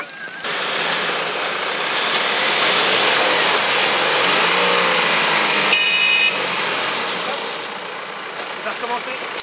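A car engine running steadily under load with all four wheels turning, a continuous mid-pitched drone that swells slightly and then eases off, with people talking over it.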